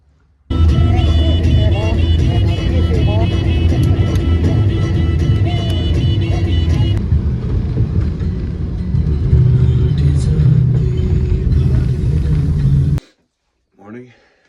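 A taxi ride in Nepal brings a continuous loud engine drone and road rumble from inside the cab, which stops abruptly near the end.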